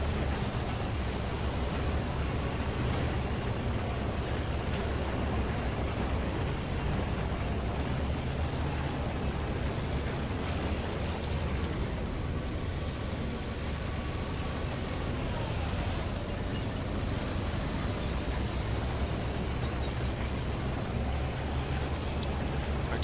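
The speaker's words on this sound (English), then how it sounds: "I love the sound of that turbocharger whine, that T150." A T150 tank engine in World of Tanks runs with a steady turbocharger whine riding over a loud, continuous mechanical rumble, the high whine rising and falling in pitch at times.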